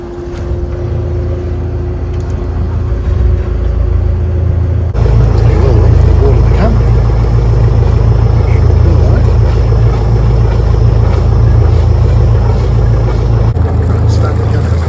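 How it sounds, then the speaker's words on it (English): A sailboat's engines run with a loud steady drone just after launch at a boat yard, rising in level partway through, with talking over it. "We'll just go backwards a bit more and start the engines."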